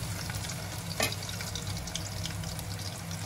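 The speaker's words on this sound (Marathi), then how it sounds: "तेल आता गरम झालं आहे आणि आम्ही घेतली आहे लसूण जरा दगडाने बारीक ठेचायची आणि मग टाकायची." Crushed garlic, pounded with a stone, frying in hot oil for a Malvani-style crab curry: a steady, even sizzle runs throughout, broken by one brief sharp clink or splash partway through.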